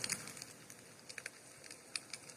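A fireplace video plays a quiet crackling fire, with scattered small pops and snaps over a soft, steady hiss.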